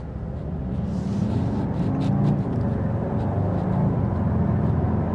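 An Audi SQ2 pulls away and accelerates on an open road in dynamic mode, its engine a steady low drone rising slightly under constant road and cabin rumble.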